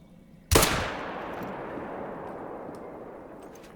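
A single loud hunting-rifle shot in the hunting game theHunter: Call of the Wild cracks sharply, then rolls away in a long fading echo across open terrain.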